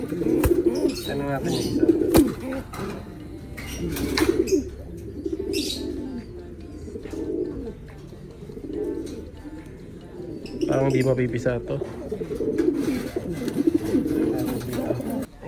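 Racing pigeons sitting on a flooded nest coo softly and repeatedly, with close, throaty calls and a few chirps, while a person talks nearby.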